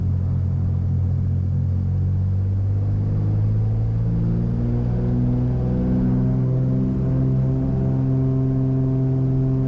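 A STEC 3100 airplane engine roars at full throttle during the takeoff roll, a loud, steady, close droning rumble with rising harmonic tones as power builds, heard throughout without talk.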